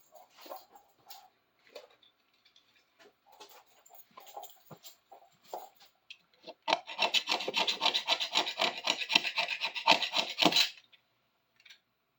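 A knife scraping along a big adjustable wrench during restoration, first as light scattered scratches, then a loud, steady run of rapid rasping strokes for several seconds before stopping, close by with no talk.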